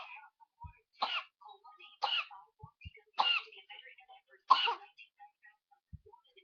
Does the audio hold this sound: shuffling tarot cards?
no